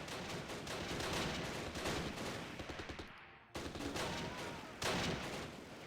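Soldiers' gunfire in the Close Combat wartime strategy game at the Arnhem rail bridge: dense crackling bursts of rifle and machine-gun fire roll on, broken by a sudden brief silence before the firing resumes.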